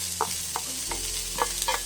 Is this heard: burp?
no